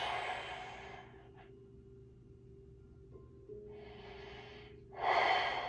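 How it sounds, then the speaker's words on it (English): Slow, deep breaths during a seated stretching session, a long exhale followed by quieter inhales and another strong breath, close and alone over a low room hum. "Continue your deep breathing."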